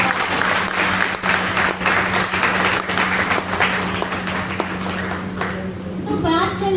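An audience at an indoor stage event claps for a poem recital, with loud, sustained applause of many hands. Voices, including a child's, rise over the clapping, and the applause thins toward the end.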